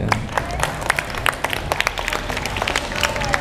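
Audience applause during a morning religious talk, a scattered but continuous patter of individual claps from a gathered crowd, moderately loud with sharp separate hand strikes standing out.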